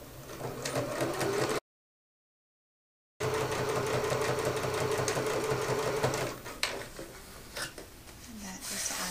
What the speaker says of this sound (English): I add one more row of accent stitching to my pockets